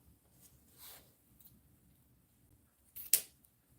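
Scissors trim the end of a wreath bow ribbon at an angle, heard as a faint swish and then a single crisp, close snip near the end.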